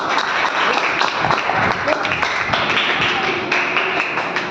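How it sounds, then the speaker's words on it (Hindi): Schoolchildren in a classroom clap for a classmate, a brisk patter of small hands mixed with voices, continuous throughout. "ताली बजाओ इसके लिए"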